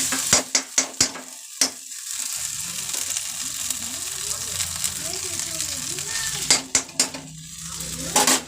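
Onions frying in a pan for an egg curry, with steady sizzling under repeated sharp clinks and scrapes of a spoon stirring against the pan, close up, with faint voices in the background.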